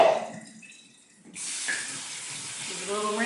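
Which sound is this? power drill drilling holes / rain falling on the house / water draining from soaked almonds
water draining from soaked almonds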